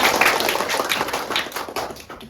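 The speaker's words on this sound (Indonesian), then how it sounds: "Ya, tepuk tangan." Schoolchildren clap together in a classroom after a class presentation, a dense, close burst of applause that fades slightly over a couple of seconds.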